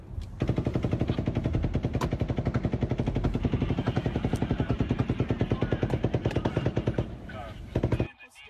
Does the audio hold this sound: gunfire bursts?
yes